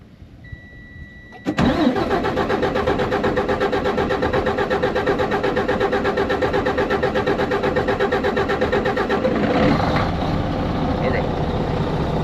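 A pump being primed and restarted after cutting off catches abruptly and settles into a loud, steady, rapidly pulsing engine drone, running close by for about eight seconds before easing slightly near the end.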